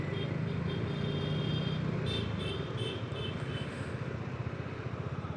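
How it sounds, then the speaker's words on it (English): Dense road traffic in Mumbai rumbles on without a break, engines and tyres washing together in a steady mid-level roar, with faint higher whines drifting over the top. "There seems to be a lot of traffic wherever I'm going on this side."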